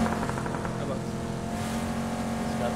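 A car engine in a battle royale shooter video game drones steadily with a constant hum, while a player talks over it.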